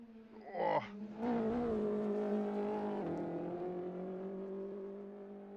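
An Audi touring race car in a TCX race revs sharply, then settles into a steady, droning engine note that holds at high revs with slight pitch shifts, close and alone without voices.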